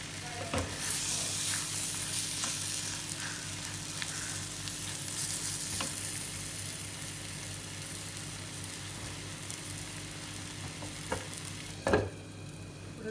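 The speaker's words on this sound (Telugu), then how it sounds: "గోంగూరను యాడ్ చేసి కొంతసేపు ఉడికించాలి." Gongura prawn curry simmers in a pan, a soft steady sizzle and hiss with a low bubbling hum and a few sharp scrapes or knocks, including a louder one near the end.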